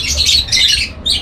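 Birds squawk in an aviary in repeated harsh bursts, loud and close, with short gaps between calls and no talking.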